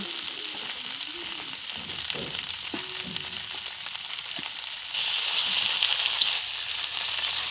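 Potato, cauliflower and peas fry with chilli in a pan, a continuous hiss of frying that grows louder partway through, with a few light stirring knocks early on.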